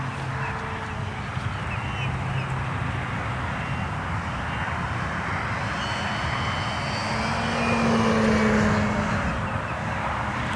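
A radio-controlled model warbird or EDF jet flying at a club field with power completely off, a steady broadband whoosh of air that swells slightly near the end, heard alone without talk.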